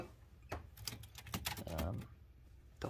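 Mechanical keyboards clacking in a few irregular, sharp key strikes in the background, mixed with quiet room noise and a low murmur, fairly faint overall.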